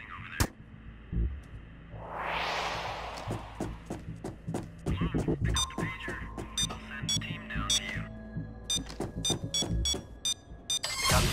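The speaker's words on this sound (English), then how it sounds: "Got the alarm, guys. It's on now." Repeating electronic alarm in the PAYDAY 2 heist game, sharp regular beeps and tones over a low hum, mixed with a sweeping whoosh and scattered clicks, no speech.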